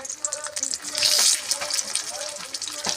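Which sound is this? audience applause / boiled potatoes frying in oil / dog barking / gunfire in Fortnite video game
boiled potatoes frying in oil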